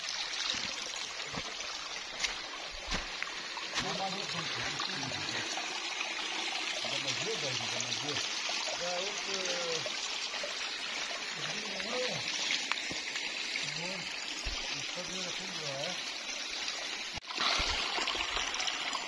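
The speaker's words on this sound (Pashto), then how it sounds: "دغه اوبه د ابشار غدي." Waterfall water rushes and trickles in a steady, loud wash on a rainy mountainside, while someone speaks at intervals over the continuous flow.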